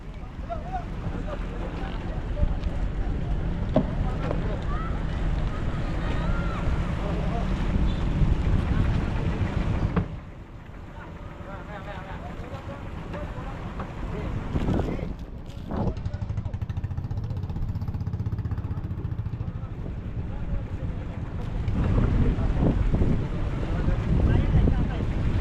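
A fishing boat at sea being readied for a trip and loaded with ice, with steady engine drone and wind buffeting throughout, a brief dip near the middle, and people talking over it.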